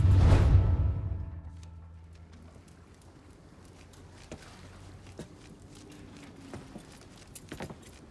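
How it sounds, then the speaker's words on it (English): Truck keys jangle in the Mafia 3 video game, a loud metallic rattle at the start that fades quickly, followed by faint scattered clicks and ticks over quiet background ambience. "I grab the keys to the truck"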